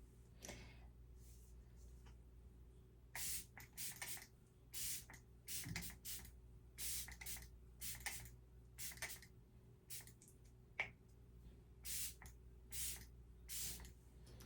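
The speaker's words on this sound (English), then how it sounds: "It's called the Lock-It-In Setting Spray." Lock-It-In setting spray from a makeup kit misting in a string of short, close hissing bursts, roughly a dozen pumps in uneven rhythm over a faint steady room hum, with no talking.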